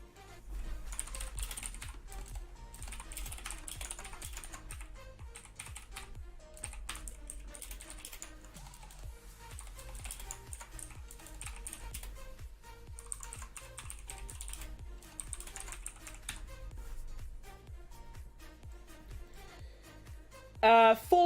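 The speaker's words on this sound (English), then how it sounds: "Now I can tweet with my keyboard." Steady, continuous clatter of typing on a computer keyboard for about twenty seconds, close and even, with a voice talking faintly underneath.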